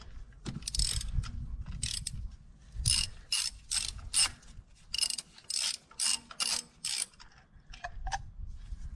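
A ratchet wrench loosens a spark plug on a car engine, giving rapid bursts of clicking pawl strokes in an uneven rhythm, close and distinct, with a low rumble beneath and no talking.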